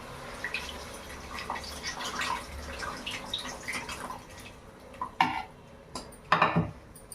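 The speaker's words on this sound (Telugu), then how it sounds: "చింతపండు గుజ్జు ఇలా పిసుక్కోవటం బాగా దీంట్లో పోసుకుందామండి" Tamarind pulp being squeezed by hand in water for a Nellore-style fish pulusu gives soft wet squelches and drips, with a few sharper splashes and clinks toward the end, close up and without speech.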